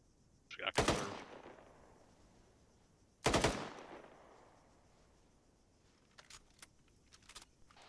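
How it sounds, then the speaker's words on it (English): Weapon reloading in a military shooter game: two sharp, loud metallic clacks a few seconds apart, each trailing off, followed by a quieter run of small clicks and rattles. "Reloading."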